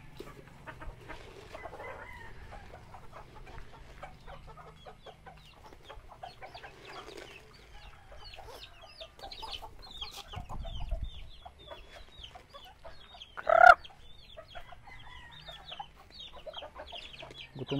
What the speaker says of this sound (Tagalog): gutom na itong mga manok